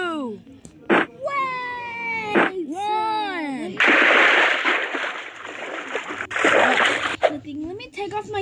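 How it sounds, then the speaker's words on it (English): A Roblox character jumps into a pool, a splashy burst of water that rises in the middle and lingers, surrounded by excited talk before and after. "I am literally going to jump into this pool"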